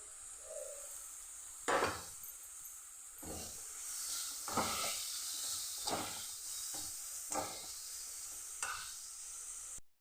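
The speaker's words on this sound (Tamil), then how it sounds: "அந்த கேரட்டை இது கூட சேர்த்து நல்லா வதக்கிடலாங்க" Grated carrot sautéing in oil in a pan for a potato masala, with a soft continuous sizzle broken by several louder bursts of stirring scrapes at irregular intervals, no voices.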